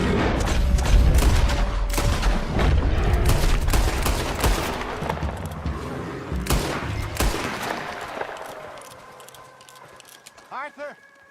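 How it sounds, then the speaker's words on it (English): Rapid volleys of gunshots aimed at a charging bear ring out close and loud, then thin out into scattered shots and fade, with voices shouting beneath the firing. "Shoot that thing, please!"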